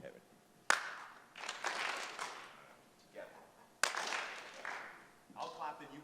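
Audience clapping in unison at an NFT.NYC 2021 talk, two sharp group claps roughly three seconds apart, each followed by murmuring and talk from the crowd and presenter.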